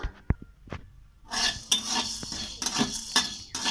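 Black peppercorns roast in a dry wok, a few sparse metallic clinks giving way to busy rattling and scraping as a spatula stirs them around the pan.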